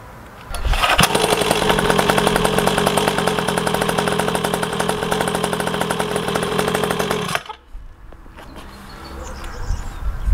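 A Gazelle 50cc mini cross dirt bike from Nitro Moto runs at a low idle on its first start. The engine gives a loud, close, steady buzzing drone for several seconds, then cuts off abruptly into quiet.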